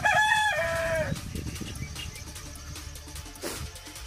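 A rooster at a native chicken farm crows once, loud and close, with the call trailing off after about a second, followed by softer clucking and farmyard sounds.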